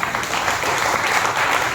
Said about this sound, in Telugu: బిగ్గరగా